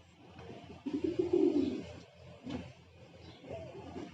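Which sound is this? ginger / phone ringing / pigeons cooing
pigeons cooing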